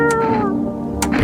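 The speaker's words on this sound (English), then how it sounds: "You reach out and pet the cat." A cat in a video game meows as it is petted, giving one long drawn-out meow and then a shorter one, loud and close over a faint background.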